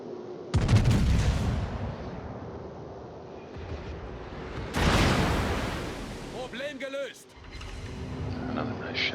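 Naval gunfire in World of Warships, with heavy booming salvos and rumbling blasts swelling and fading amid game effects, while a voice talks over them.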